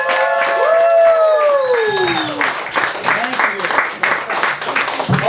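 Open mic comedy crowd applauding and cheering for the host, a dense wash of clapping that builds under a fading musical tone and a few shouts.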